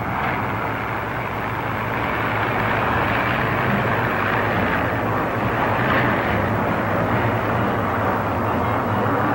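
Vintage hydroplane racing boats in the 1951 Seafair Gold Cup race roar past continuously, a loud broad engine drone with wind noise, the pitch swelling slightly as boats pass, no talk.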